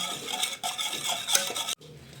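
Cooked homemade dal for varan being whisked in a pot, a busy run of close metallic scraping and clinking with a brief pause midway and an abrupt drop to quieter stirring near the end.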